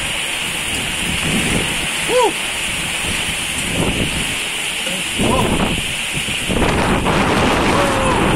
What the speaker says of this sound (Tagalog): Hangin ng ulan.